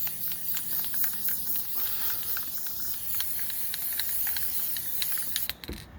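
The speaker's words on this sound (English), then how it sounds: "So I'm just gonna spray the back pretty heavy." A steady hiss of aerosol sealant sprays heavily onto the back of a watercolor painting, continuous for several seconds, close by, with faint clicks beneath it before cutting off at the end.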